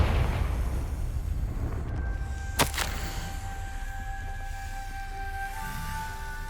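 A Confringo fire spell from the Hogwarts Legacy video game bursts once as a sharp, loud crack over a constant low ambient rumble, followed by faint lingering tones.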